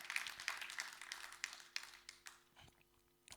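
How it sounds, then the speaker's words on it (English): An audience at an African sanitation services event applauds Asha, producing a short burst of scattered clapping that sounds distant and faint and fades out toward the end. "Please, can you give another round of applause to Asha?"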